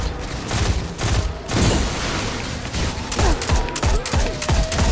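Weapon fire in the video game Destiny 2 comes as dense rapid bursts of gunshots with booming impacts, loud and continuous across the whole stretch with brief gaps between volleys.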